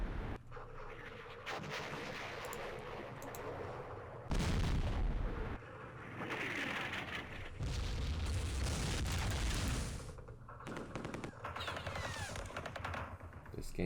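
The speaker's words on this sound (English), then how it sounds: "We do have artillery. Let's start hitting it." Artillery shells and gunfire crash in the Vietnam War strategy game Campaign Series Vietnam during the Battle of Dak To, heavy booming bursts rolling in clustered waves with dense crackling rounds between them and no voices over them.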